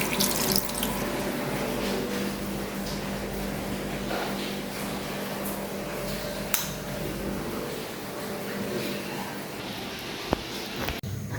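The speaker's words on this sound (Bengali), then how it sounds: "আমি এখন বেসিংয়ে একটু হাত দিয়ে দিব, হাত ধুয়ে নিব" Hands being washed at a kitchen basin under a running tap after handling fish, a steady broadband gush of water close by with a few small knocks and clinks near the end.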